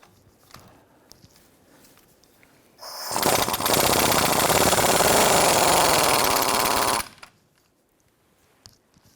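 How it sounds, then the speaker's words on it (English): Nut on a 1993-1997 Ford Ranger front tie rod adjusting sleeve loosened with a 15mm socket on a power tool, one loud sustained rattling buzz of about four seconds, close by, with quiet shop noise around it. "use our 15mm socket and loosen the nut"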